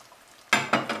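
Drained cannellini beans hit a hot pan, a sudden loud sizzle followed by two more bursts of frying hiss as they are stirred, close and alone after a quiet start.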